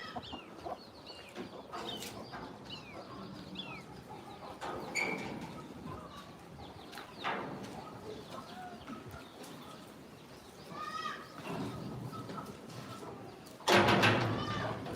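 Chickens cluck and call on and off nearby on a goat farm in India, with a hen and chicks present, soft cooing birds and a louder burst of clucking near the end.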